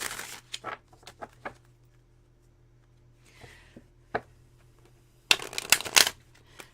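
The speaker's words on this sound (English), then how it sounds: "shuffling is feeling good. I'm going to shuffle a couple more times." A deck of playing cards is shuffled during a full-moon card reading, with a few brief riffles early on, a faint rustle midway, and a loud, dense burst of riffling near the end.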